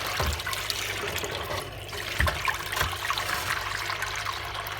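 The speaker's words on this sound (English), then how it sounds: "I've never seen water that grim coming out of a washing machine" Dirty water from a Bush 721QW washing machine draining in a steady loud gushing rush, with a few bumps and gurgles on top, continuous throughout.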